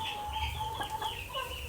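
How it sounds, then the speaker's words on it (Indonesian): An ekor lidi breed chicken, five months old, clucks and chatters softly at close range in short repeated calls, with no speech. "Nah ini ayam ekor Ridi"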